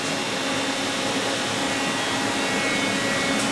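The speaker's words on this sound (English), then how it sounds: "So here's where we do the milling. That's a CNC mill." A Herco CNC milling machine running in a knife-making shop, a steady loud broadband whir and hiss with faint tonal whine, continuous and unbroken, with no voices.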